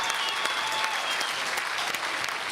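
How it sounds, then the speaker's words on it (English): A crowd at a World Poker Tour event applauds steadily for a player walking out, with players joining in, a dense continuous clapping wash that holds at even loudness throughout with no talk over it. "gets a nice ovation from the crowd, even from the players"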